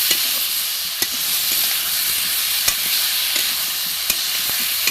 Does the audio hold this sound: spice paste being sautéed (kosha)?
yes